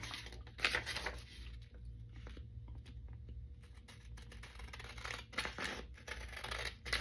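Scissors fussy-cutting around a printed music sheet for a craft project, with soft repeated snips and paper rustles close by against faint background hum.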